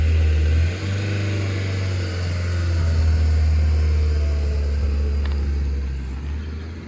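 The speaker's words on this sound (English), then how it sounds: "Wait, darling, there's a car." A car on the road nearby gives off a loud, steady low engine hum and rumble that holds for several seconds before easing off slightly.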